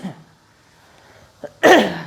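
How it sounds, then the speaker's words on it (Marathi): A person in a lecture setting gives a short throat sound, then one loud, harsh cough near the end after a quiet stretch. "सॉरी, खोकला आहे मला थोडा."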